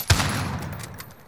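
Gunfire in Call of Duty: Modern Warfare, a sharp close shot at the start followed by a rattling decay and a couple of fainter follow-up pops, brief and punchy.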